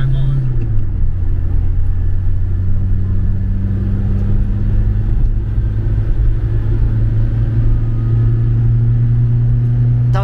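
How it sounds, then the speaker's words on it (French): A diesel car engine runs steadily from inside the cabin, a low droning hum that shifts pitch slightly, with people talking over it. "Le moteur. Enfin, le moteur fait pas du tout un bruit de diesel."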